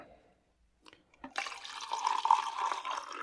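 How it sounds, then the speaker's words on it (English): Liquid film developer is poured into a film developing tank, a gurgling, splashing stream that starts after a few soft clicks and handling taps, then continues steadily and fairly quietly to the end. "And we'll start off by pouring in the developer."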